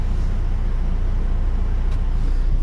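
Mitsubishi Montero engine idling steadily after an EGR valve replacement that cleared check engine, black smoke and low power faults: a continuous low, even rumble heard up close with no talk over it.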